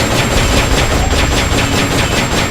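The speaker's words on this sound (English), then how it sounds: "We're going to start off with the PKM, just lay down some rounds." Sustained PKM machine gun fire in Metal Gear Solid: Peace Walker, a loud, dense and continuous burst of rapid shots with no pause, heard on its own without voices.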